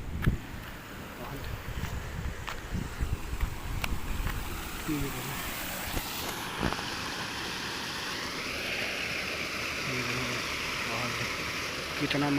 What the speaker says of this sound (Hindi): यहाँ से सीधा नदिया में जा रहा पानी।